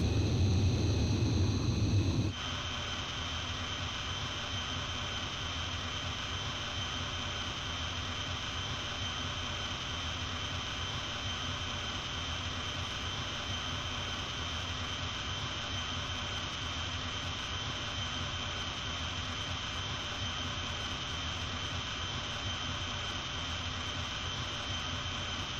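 A jet fighter engine roars in the Ace Combat 5 video game during a carrier landing approach, a steady loud whine and rumble running unbroken throughout after a brief louder opening moment.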